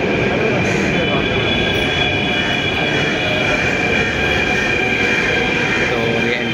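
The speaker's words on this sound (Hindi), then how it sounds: "कुछ ही सेकंडों में इतना स्पीड हो जाता है। तो नेहरू प्लेस के लिए अभी आगे है मेट्रो" Inside a Delhi Metro train on the Violet Line, a steady rumbling roar of wheels and motors fills the car at speed, with a faint high whine and occasional soft voices beneath.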